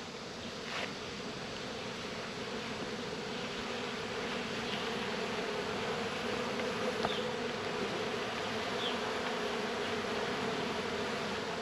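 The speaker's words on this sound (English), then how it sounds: "we're going to show you the bees working on the frames" Dense, continuous buzzing of many honeybees swarming close by on hive frames during a honey harvest, with hornets about, a steady droning hum with no voices.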